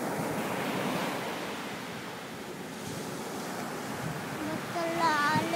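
Sea waves at the beach, a continuous washing roar of surf that swells toward the end, with faint, indistinct voices in the background.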